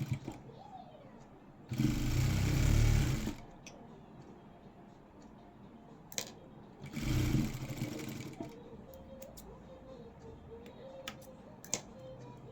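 A sewing machine stitches a blouse in two short, loud runs of rapid whirring separated by quiet stretches that are punctuated by faint ticks and clicks.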